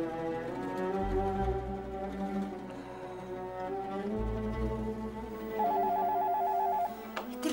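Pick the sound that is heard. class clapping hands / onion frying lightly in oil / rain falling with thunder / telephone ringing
telephone ringing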